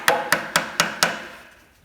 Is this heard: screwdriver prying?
yes